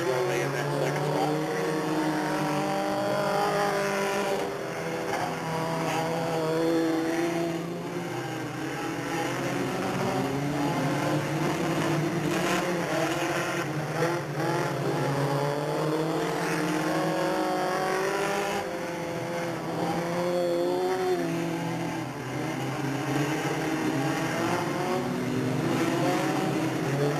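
Race cars roaring around Delta Speedway in a 1997 stock car race, a dense, continuous engine drone with rising and falling revs as the field circles, steady and loud throughout.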